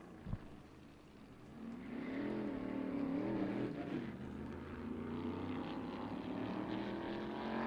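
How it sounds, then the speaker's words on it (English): Number 48 SMART Modified race car lapping North Wilkesboro Speedway in qualifying, an engine note that rises and wavers as it passes and then holds a steady drone, heard at moderate distance with no talk. "now Johnny Kievman on the racetrack in that 48 car"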